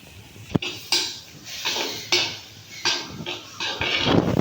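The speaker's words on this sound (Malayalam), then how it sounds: "ഇപ്പം നമുക്ക് ഇതെല്ലാം നല്ലപോലെ ഒന്ന് വഴറ്റിയെടുക്കാം. അരിഞ്ഞു വെച്ചിരിക്കുന്ന തക്കാളി ഒന്ന് ചേർത്ത് കൊടുക്കാം." A metal spoon scrapes and clinks against a pan while chopped tomatoes and spices are stirred for a homestyle rasam, several sharp taps and scraping strokes at an irregular pace, close and clear with no talk.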